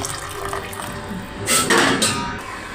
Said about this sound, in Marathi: याच्यामध्ये आता गरम पाणी ओतून घ्यायचं।